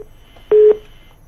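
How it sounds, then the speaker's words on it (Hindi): A telephone busy tone after a phone line disconnects during a live call: one loud steady beep lasting about a quarter second, standing alone over quiet line hiss. "फोन डिस्कनेक्ट हो गया है"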